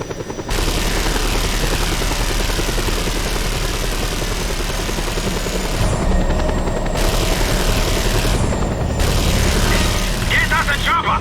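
A helicopter in the Just Cause 2 video game drones with a loud, continuous rotor and engine roar, mixed with mechanical clatter, booms and bursts of gunfire.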